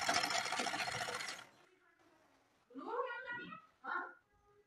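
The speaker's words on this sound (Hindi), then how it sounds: "पहले इसको इस पे सिलाई लगा लेंगे पूरे पे, इसको ऐसे करके मोड़ते जाएंगे।" Sewing machine stitching fabric around a neckline in a fast, dense run that stops after about a second and a half, followed by someone talking.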